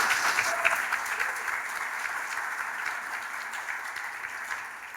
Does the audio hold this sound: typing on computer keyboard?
no